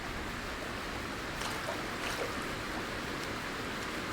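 Steady broadband rush of falling water from a waterfall in the climbing survival game Cairn, a continuous even wash with no talk over it.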